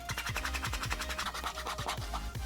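Sandpaper rubbed by hand along the top edge of a Persona 3 Evoker cosplay prop, quick rhythmic scratchy back-and-forth strokes, close and steady, with no talking.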